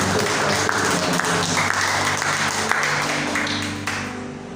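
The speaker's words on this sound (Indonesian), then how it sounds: "Mari kita sambut dengan tepuk tangan bersama" Congregation applauding together inside a church, a dense steady wash of clapping that holds for several seconds and thins slightly toward the end.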